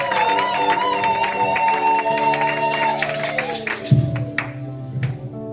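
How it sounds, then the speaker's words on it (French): A church congregation claps and cheers for a visiting pastor from Congo over sustained music, with the applause tapering off toward the end. "You clapped for the pastor."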